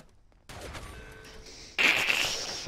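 Gunfire in the online shooter Fallout 76 breaks out in quick bursts over game ambience, growing louder and denser toward the end of a short, noisy stretch.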